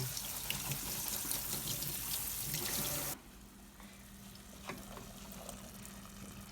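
Canned pigeon peas are rinsed under running kitchen tap water, a loud steady rush that cuts off after about three seconds, leaving a quieter background hiss and light clatter.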